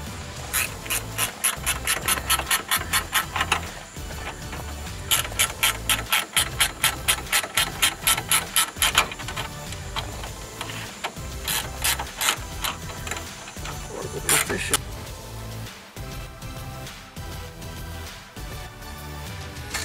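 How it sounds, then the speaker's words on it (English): Ratchet snugging bolts on a bowfishing LED light mount, giving fast close clicking runs in repeated bursts, followed by softer rubbing and handling noises. "He's gonna snug up our bolts"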